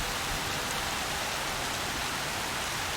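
Steady, dense rain falls in the video game Horizon Zero Dawn, a constant hiss of drops on surfaces heard close and alone throughout.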